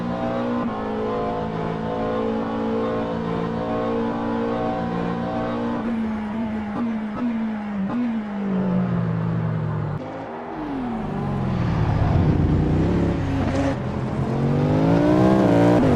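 McLaren 720S Evo race car engine in a sim racing game, a steady loud howl that climbs and falls through gear changes, revving hard near the end, heard alone without talk.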